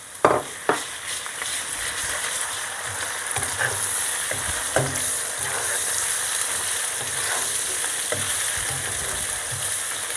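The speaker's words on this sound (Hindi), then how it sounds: "थोड़ी देर भूनेंगे लहसुन अदरक को" Garlic and ginger fry with onions in a pan, a steady soft sizzle with occasional clicks and scrapes of stirring throughout, no voices.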